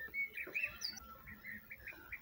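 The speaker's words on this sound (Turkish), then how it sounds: "Kuş sesleri arasında" Small birds chirp and tweet in short, bright calls around a mosque courtyard in Trabzon on a May spring day, faint and scattered against a quiet outdoor background.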